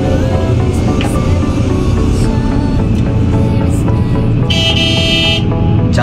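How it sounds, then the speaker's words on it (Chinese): An excavator's horn gives a loud, sustained honk over steady, heavy engine rumble and machinery noise, close by. "假装打两声喇叭"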